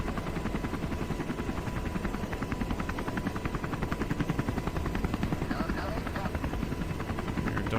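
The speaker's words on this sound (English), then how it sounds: "You're done with the helicopter." Helicopter in a space flight video game mission to install equipment on the ISS, a steady rapid rotor chop throughout with a voice talking over it.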